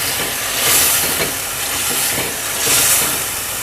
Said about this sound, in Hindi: तो अब मैं इसमें सिर्फ 3-4 टेबलस्पून पानी डाल दूँगी